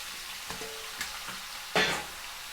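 Beef skin for kare-kare is stirred with onion and garlic in a pan, a soft frying hiss broken by a few light scrapes and one louder scraping stroke near the end.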